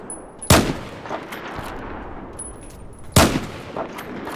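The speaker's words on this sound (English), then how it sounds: "Usually when I snipe, it's on point and it's not even hitting this guy." Two loud, sharp sniper rifle shots ring out in Battlefield, spaced a few seconds apart, with the gameplay ambience continuing steadily between them.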